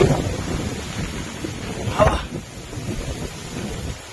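Strong wind buffets the microphone in loud, rumbling gusts on a nature trail in the Seychelles, peaking midway before easing into a steadier roar.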